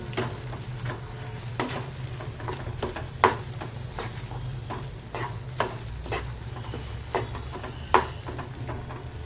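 A spoon stirs carrot halwa in a pan over a soft, steady sizzle, with regular scraping strokes and occasional louder clinks against the metal, close and alone.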